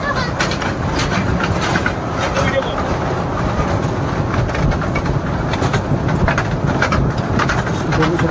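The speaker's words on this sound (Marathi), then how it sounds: "मित्रांनो, बालकांसाठी मिनी ट्रेन म्हणजे आनंददायी ट्रेन आहे।" An open-sided mini joy train for children, on the Elephanta Caves trip from Mumbai, rolls along with a steady, loud rumble and rattle of its cars, while voices carry on over it throughout.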